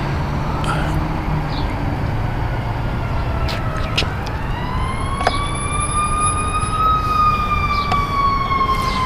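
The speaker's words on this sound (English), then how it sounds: "That siren's coming from behind me." An emergency vehicle siren wails and rises from behind, starting faint and growing more prominent over a constant road and engine rumble, the tone sweeping upward as it nears.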